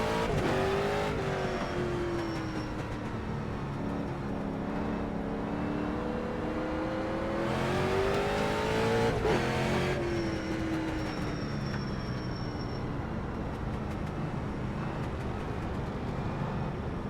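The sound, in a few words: race car engines during rolling start in iRacing video game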